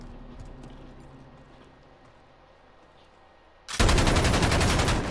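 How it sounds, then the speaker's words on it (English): Gunfire from an M19 pistol and a double-barrel shotgun in Call of Duty: Modern Warfare 2v2 gameplay, a loud burst of dense shots erupting near the end after quieter game ambience. "M19 and a double barrel shot."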